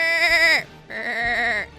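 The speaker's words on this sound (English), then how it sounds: "we've got some sheep." A sheep gives two clear, loud bleats close by, each a wavering, nasal call with a short gap between them.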